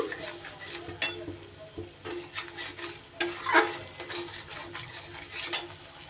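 Spice paste being sautéed in a pan for a cauliflower and paneer curry, heard as steady stirring and scraping with spoon clinks against the pan and a soft sizzle underneath.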